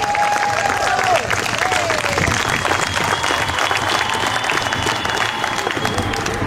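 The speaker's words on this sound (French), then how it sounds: "Je pense que ça mérite une bonne main d'applaudissement pour ça." A conference audience at a community event applauds in a loud, sustained burst of dense clapping that lasts throughout, with a few voices briefly audible beneath.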